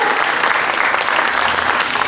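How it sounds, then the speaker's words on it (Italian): An audience at an Italian song festival semifinal with a Pulcinella theme bursts into thick, continuous applause, close and loud throughout the short burst. "Allora, applausi!"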